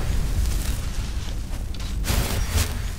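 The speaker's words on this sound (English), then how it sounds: "Through that explosion." Explosion in the Skyrim video game during a fight, a dull low boom with a rumbling burst and a sharper crack near the end, heard alone with no talk.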